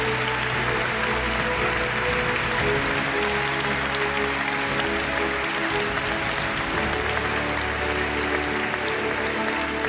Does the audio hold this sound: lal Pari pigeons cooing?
no